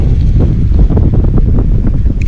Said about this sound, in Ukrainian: поки вітер дує